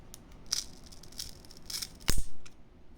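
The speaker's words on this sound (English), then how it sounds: "now I can pry on the battery against the click wheel without worrying about damaging the motherboard" Prying the old battery out of an iPod 4 against its click wheel, with faint scraping and small clicks, then a sharp crack and brief rattling as it gives way, close and quiet.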